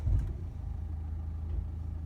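A car engine turning over and settling into a low, steady idle during a driving lesson, a close rumbling hum with a brief louder catch at the start, no voices.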